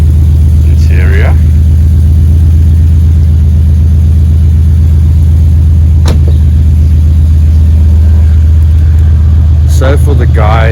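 A BMW E60 with a V10 engine runs at a constant loud, deep idle-like drone, close to the microphone, with someone speaking briefly over the heavy rumble.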